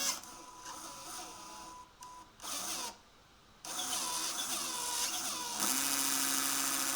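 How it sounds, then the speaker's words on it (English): A small fischertechnik pneumatic engine motor runs with a steady, high-pitched mechanical whir, briefly cutting out and restarting as contact is lost, then continuing louder and more evenly near the end. "there goes the motor again"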